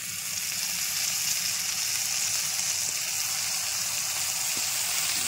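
Ginger paste frying in hot spiced oil with ground coriander, a steady close hiss and sizzle with faint crackles, no talk.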